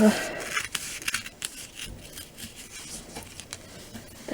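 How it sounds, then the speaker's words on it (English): Thick wet paper torn slowly along an edge, a rough crackling rip made of short bursts that comes through close and fairly quiet, with no voice over it. "and then you just tear right along"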